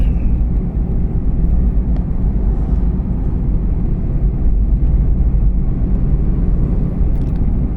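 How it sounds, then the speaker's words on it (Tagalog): A 2017 Nissan Almera driving on the road in traffic: a steady, close low engine and road rumble, continuous and fairly loud throughout, with no talking. "takbo na ang Nissan 2017 Almera"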